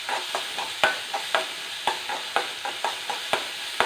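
Onions sauté gently in a small amount of oil, a soft continuous sizzle broken by regular scraping strokes of a spatula stirring the pan, close and even in rhythm.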